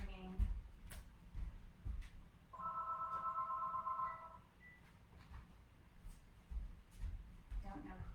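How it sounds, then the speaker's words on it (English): A home landline phone rings once in a short electronic burst midway through, heard at moderate distance over a quiet room with soft background noise and a few faint knocks. "And my phone is ringing."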